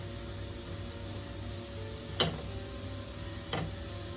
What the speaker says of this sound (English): Then I'm going to dump all the prawns in there.